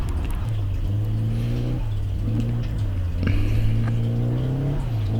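Drift car on a wet track at a drift event, engine droning and revving steadily with shifting pitch as it spins out, loud and continuous with no talk.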